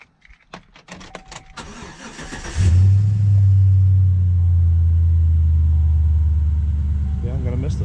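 An old truck's engine cranks and catches, then settles into a loud, steady low rumble that carries on close by while someone talks over it.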